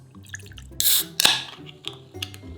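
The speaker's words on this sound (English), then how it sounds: "get the juice of half a lime. Yes, pour that into a glass." Juice from half a lime poured into a glass, a few short splashes and drips close by, with kitchen clatter around them.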